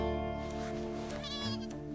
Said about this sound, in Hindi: बकरी का बच्चा मिमियाने लगा है